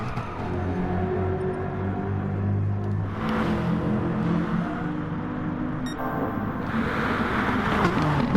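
Touring car spinning out at the Monza circuit in a racing video game, a continuous loud engine roar and tyre rumble with a shift in tone partway through, no voices.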